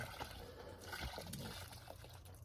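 Liquid poured into garden compost in a shallow hole in a garden bed, giving a soft, steady trickle and light splashing heard close by and fairly faint, with no one speaking over it.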